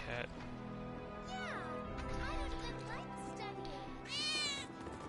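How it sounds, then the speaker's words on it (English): A mangy stray cat meows repeatedly in Final Fantasy VII Remake, several rising and falling cries close by, with people talking over and between them. "I think one of Betty's cats might be nearby."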